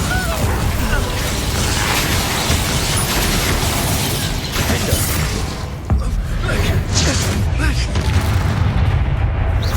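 Bombarda spell explosion in the Hogwarts Legacy video game, a loud dense blast with rumbling debris, mixed with game combat noise and voices.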